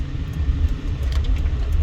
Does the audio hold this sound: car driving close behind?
yes